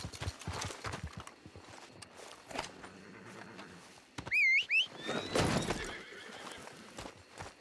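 A horse in a Western video game gives a sharp, high whinny midway, set among heavy hoof thuds and clip-clopping steps with background game noise.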